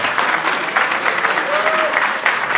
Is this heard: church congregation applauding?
yes